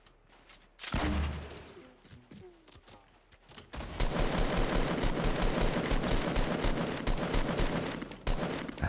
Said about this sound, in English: I might have to shoot this guy.